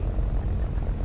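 An enemy propeller plane in an air combat flight simulator game drones past as a dense, low rumbling hum, steady and fairly faint.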